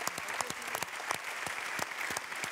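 An audience at a national start-up awards ceremony applauds the Actility team with brisk, continuous clapping. Sharp individual claps stand out near the front against a dense, steady wash of applause.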